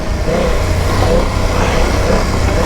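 A BMW F 900 GS motorcycle engine revs steadily under throttle while riding off-road, a loud, continuous mid-pitched drone with slight surges and no speech over it.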